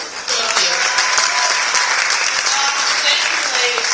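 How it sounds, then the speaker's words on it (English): An audience applauds to welcome panelists at a Life You Want tour event in Miami, a loud, dense burst of clapping that starts abruptly and carries on steadily to the end. "Please join me in a round of applause"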